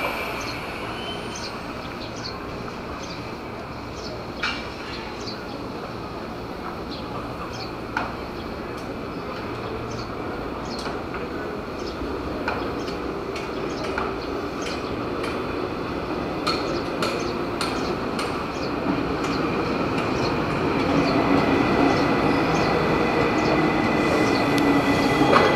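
A KRL Commuterline train pulls into and leaves Manggarai station. A steady rail rumble carries rhythmic wheel clicks and thin squeals, and it grows louder and rougher toward the end.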